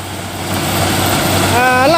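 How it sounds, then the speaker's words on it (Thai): The large six-cylinder John Deere PowerTech diesel engine of a John Deere CH570 sugarcane harvester idles with a steady low rumble and then revs up, its pitch rising toward the end. "เครื่องยนต์ก็เป็นเครื่องยนต์ของจอนเดียนะครับ"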